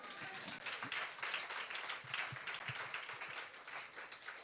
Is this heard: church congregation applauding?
yes